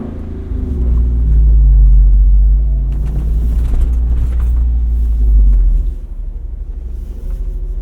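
A 2024 Jeep Wrangler Rubicon 392 Final Edition rolls over bumpy ground, its deep, loud cabin rumble swelling and easing with occasional knocks and rattles from the ride, without talking.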